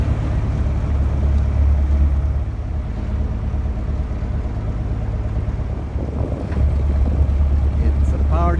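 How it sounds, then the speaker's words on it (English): A party boat passes on the water near the Olympic Park, a steady low engine drone with droning music-like hum and wind rush, continuous and fairly close. "It's a party boat."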